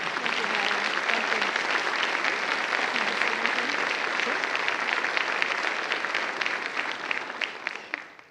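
A banquet audience at an annual women's center fundraising dinner breaks into sustained applause, a dense wash of many hands clapping that holds steady and then fades out at the end.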